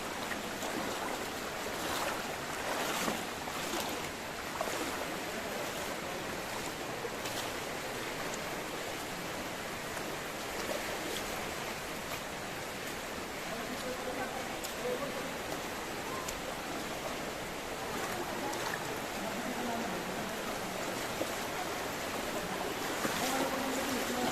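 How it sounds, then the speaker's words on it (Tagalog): Strong river current rushing at Lipit River and Falls in Sison, Pangasinan, a steady broadband roar of water that fills the whole span, loud and continuous with no pauses. "Napakalakas ng agos."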